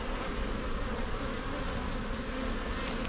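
A dense, steady hum of honey bees fills the air above an open hive brood box packed with bees, loud and close with no pauses.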